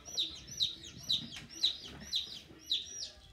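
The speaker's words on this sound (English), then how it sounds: "Don't freak out the chicken." A chicken peeping in a quick regular series of six high, sharp calls, close and fairly soft, with low background noise and no talking.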